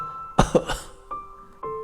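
A woman coughs sharply three times in quick succession, then gives a softer wheezy breath and another brief cough, close and clear.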